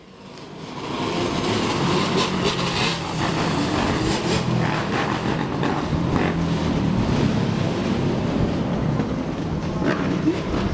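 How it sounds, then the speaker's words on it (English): Steady traffic rolls through a street in West Philadelphia, a continuous broadband roar of passing vehicles with no talk, holding level loud from start to finish after a quick rise. "we got the Philadelphia, West Philadelphia's traffic coming through"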